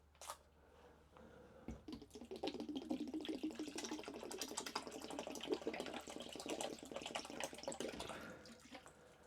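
Restore It RV black tank sensor cleaner poured from a 32-ounce bottle into the tank, a steady liquid glug and splash running for several seconds, then tapering off near the end.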